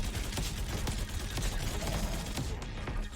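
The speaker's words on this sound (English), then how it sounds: "As you can see, he launches missiles." Missiles launched by a boss in the Xbox One game Freakout: Calamity TV Show, heard as a dense, continuous barrage of rapid explosive bursts and gunfire-like cracks filling the whole stretch at steady loudness.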